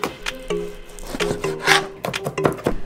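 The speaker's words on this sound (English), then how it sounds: "The ginger and the garlic. I'm gonna mince it up" Fresh ginger and garlic being minced with a knife on a board in a home kitchen, a series of irregular close taps and scraping chops interspersed with light clatter.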